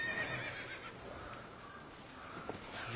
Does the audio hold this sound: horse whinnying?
yes